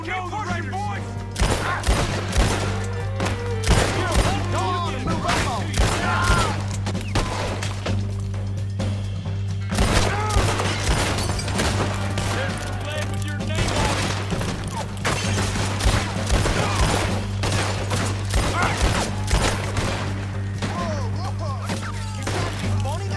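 Heavy mounted gun in Red Dead Redemption 2 firing in long, dense bursts, loud rapid shots packed together almost without pause for the whole stretch over a steady low hum.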